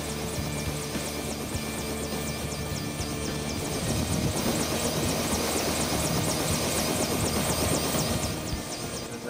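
A tour helicopter from Icefield Helicopter Tours flies steadily and continuously, its rotor drone and engine whine filling the scene at a constant level, growing slightly louder midway, with no talk over it.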